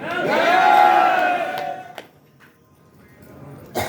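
An audience at a Hindi talk lets out a loud, sustained shout in unison that swells and then fades, leaving a quieter murmur and a few scattered calls.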